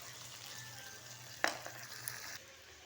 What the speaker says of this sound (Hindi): जब तक हमारे मसाले ये फ्राई हो रहे हैं